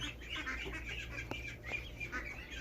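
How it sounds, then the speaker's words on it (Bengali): Ducklings in an enclosure peep and chirp in soft, overlapping bursts over a steady low hum, heard at night in Riyadh, Saudi Arabia. "এখানে দেখতেছি হাঁসের বাচ্চা আছে"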